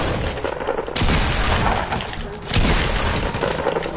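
Video game gunfire erupts in loud, dense bursts of booming shots and impacts, with a brief lull before another heavy volley, close and harsh.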